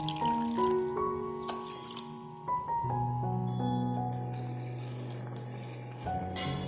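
Water poured from a cup onto sugar in a cooking pot to make syrup for Turkish delight, a steady close trickle and splash with no talking.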